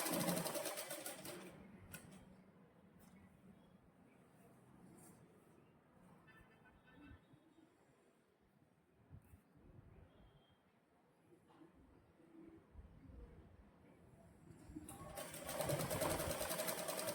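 A sewing machine stitches a collar onto a princess-line blouse, running as a soft, steady mechanical whir close by, quieter through the middle and louder again at the start and end.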